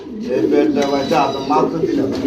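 Fancy pigeons at a pigeon market coo in a steady, overlapping murmur, near and continuous, while people talk over them.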